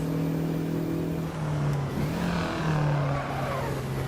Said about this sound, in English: Oh, slightly locking up there